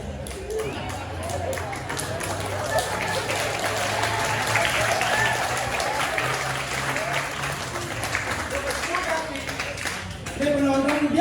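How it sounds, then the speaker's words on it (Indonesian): Audience at a classical Balinese Arja performance by a community troupe applauding steadily, a dense wash of clapping that runs the full length under ongoing gamelan and background voices. "Dia penonton dia nepuk tangan yang pergi ke blog"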